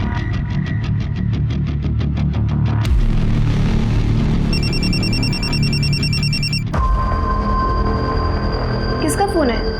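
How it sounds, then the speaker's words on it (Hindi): A telephone rings in rapid pulsing bursts, followed by a repeated electronic beeping, all over a busy background with voices. "किसका फोन है?"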